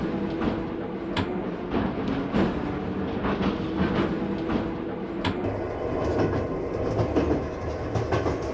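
A passenger train runs steadily with rolling rumble and rhythmic clickety-clack of wheels over rail joints, heard from inside a coach, with a couple of sharper metallic knocks along the way.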